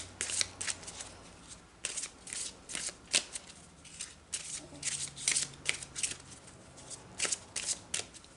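Angel Oracle cards being shuffled by hand during a tarot reading: a close, crisp series of riffling, flicking bursts in irregular clusters, with brief pauses between handfuls.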